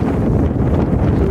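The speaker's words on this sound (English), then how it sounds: "It's turned cold and windy today." Cold, gusty wind in Aarhus, Denmark buffets the microphone in a loud, dense low roar that rumbles without pause through the short moment, with no voices heard.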